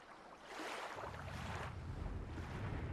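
Rushing waterfall in the game Ark Survival Ascended on the Astraeos map, a steady broadband roar of falling water that swells and stays loud and continuous throughout, with no voices.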